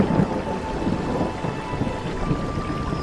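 Steady rain pattering down with a low rumbling undertone, continuous and close, no voices.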